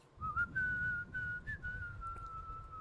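Someone whistles a slow, steady tune nearby, sustained notes with small pitch slides over a low background rumble.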